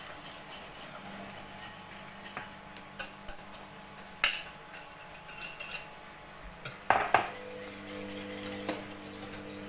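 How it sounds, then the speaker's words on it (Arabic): Ingredients mixed and poured into a saucepan for a fraisier cake's pastry cream, with scattered metal utensil clinks and scrapes against the pan that grow busier midway, ending in a brief pouring rush. "اذا نخلطو ونخوي كلشي في الكاسرونه"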